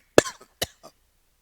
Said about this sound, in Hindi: सिगरेट पीता नहीं, फिर भी खांसी खतरनाक है।